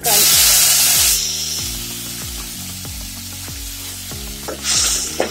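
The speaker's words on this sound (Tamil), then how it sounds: "இதெல்லாம் நல்லா வதக்கிக்கணும்." Garlic, red chilies, tamarind, curry leaves and tomato sauté in hot oil for chutney, with a loud sizzle at first that eases to a softer fry under repeated clinks and scrapes of a stirring spoon.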